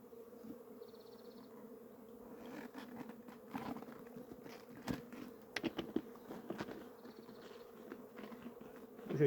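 Steady buzzing of many honey bees close by at an open hive, a continuous low drone with light tapping and rustling sounds scattered throughout.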